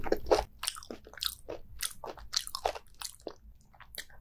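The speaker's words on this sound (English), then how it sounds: "This is super crunchy. The moment you bite into it, it goes like that." Crunchy bluefin tuna sashimi with a firm muscle at its center is bitten and chewed up close, giving a rapid series of sharp, wet crunches in an uneven rhythm, with no talking.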